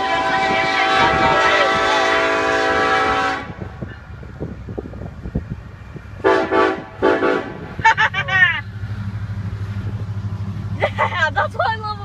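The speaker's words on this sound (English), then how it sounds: "The train engines always honk for you." A Union Pacific hopper freight train's horn blasts at a road crossing, a long sustained honk followed by a few shorter toots, with people talking nearby.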